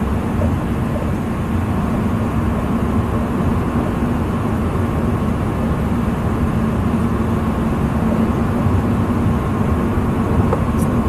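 Supercharged BMW E92 M3 fitted with an ESS G1 kit cruising in sixth gear at about 3,000 RPM, a steady, loud low drone of engine and road noise heard from inside the car with no break.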